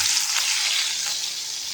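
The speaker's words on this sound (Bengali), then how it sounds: "এদিকে আমি কিন্তু চিংড়িগুলোকে ভেজে নিই" Prawns dropped into hot oil in a wok, producing a loud, steady frying sizzle that holds continuously throughout, close up and alone with no talk.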